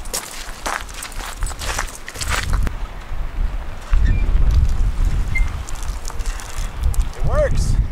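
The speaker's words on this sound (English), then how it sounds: "Forewarning, it's windy out here." Gusty wind buffets the microphone with low rumbling at an RV campground at sunset, while people talk over it outdoors.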